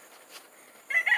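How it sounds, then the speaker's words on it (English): A farm chicken clucks briefly near the end, a short burst of fowl calls after a quiet stretch, close and moderately loud. "And there's one more chicken."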